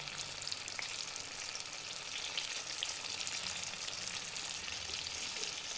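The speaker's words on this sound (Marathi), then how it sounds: "कमी गॅसवरतीच तळून घ्यायची मिरची." Stuffed green chillies frying in oil in a pan over low heat, giving a steady, even sizzle and crackle that continues at moderate level with no voices.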